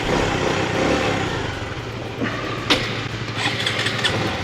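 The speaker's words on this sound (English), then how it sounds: "bike stalled" A motorbike engine on a road trip through Vietnam runs and then stalls, with a loud, steady road rumble broken by a few sharp clunks and sputters near the end.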